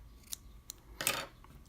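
A few sharp scissor snips cutting cotton wick, two quick light cuts followed by a louder, longer snip, in a quiet setting.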